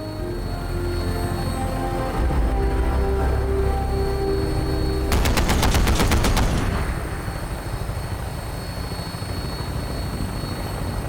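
A rapid burst of gunfire rattles for about two seconds in Fallout 4 during the assault on Fort Strong, cutting through the steady, loud drone of helicopter rotors that continues throughout.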